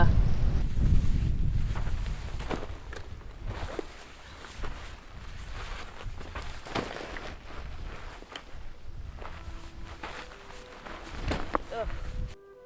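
Gusty wind in Iceland buffets the microphone with low rumbling bursts, while scattered knocks and faint voices come and go in the background.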